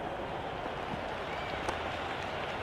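A stadium crowd at a Pakistan versus England match in the cricket video game Cricket 26 keeps up a steady, dense roar of cheering and clapping that stays level throughout.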